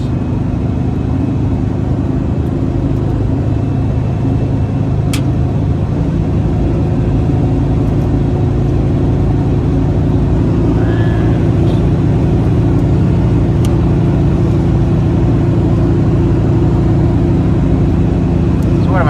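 A 1995 Volkswagen Beetle cruises at highway speed, around 100 km/h, with a steady engine drone and road and wind roar that stays constant and close throughout.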